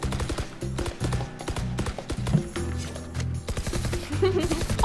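A weapon fires in Valorant in rapid repeated shots, quick sharp bursts of gunfire close up over a game background, with no talking.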